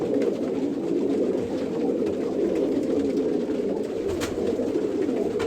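A flock of pigeons in a breeding setup keeps up a constant low cooing chorus, close by and unbroken, with faint scattered rustles and flaps.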